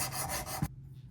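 An EDC pocket knife blade scrapes across a sharpening stone in a rapid series of short rasping strokes that stop abruptly, leaving near silence.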